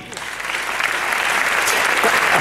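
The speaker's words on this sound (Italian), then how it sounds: "vorrei accoglierlo con un grande applauso qui sul palco" Audience applause welcoming Federico Marconi onto a stage, a dense, steady wash of clapping that swells slightly and holds loud throughout.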